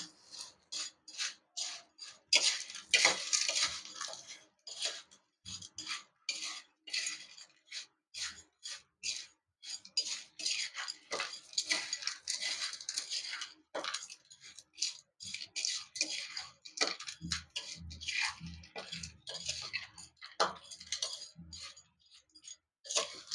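A spoon mixes chana jor garam, flattened chickpeas, with fresh green coriander in a bowl, making a long run of quiet, irregular scraping and clicking strokes with short pauses between them.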